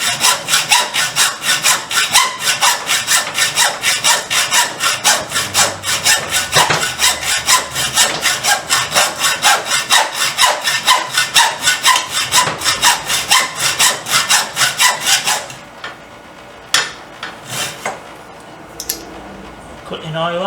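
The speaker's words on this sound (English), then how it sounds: "I thought I'd get this sawn off here." Hand sawing through a metal part on a BSA 350 motorcycle, a steady fast rhythm of close, loud rasping strokes for about fifteen seconds, then stopping, followed by a few clinks and scrapes.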